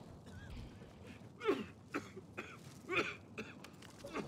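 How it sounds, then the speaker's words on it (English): A video game character coughs from gas, in several short, rough bursts spread across a few seconds, with faint background noise between them. "He's coughing too."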